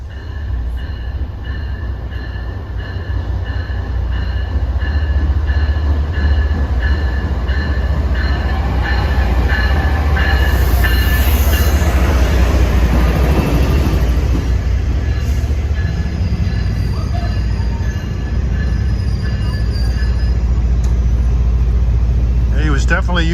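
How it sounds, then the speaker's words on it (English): An MBTA MPI HSP46 locomotive rumbles in close and loud using its dynamic brake, with a deep droning engine and steady mechanical whine, wheels grinding as it passes, with occasional voices nearby. "He was definitely using his dynamic brake when he came in here."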